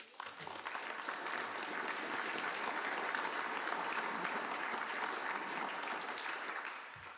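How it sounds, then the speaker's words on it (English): Sustained applause from an audience at a New York City event on the humanitarian response to migrants arriving by bus, a dense steady wash of clapping that holds for several seconds and fades slightly at the end. "Want to give yourself a round of applause?"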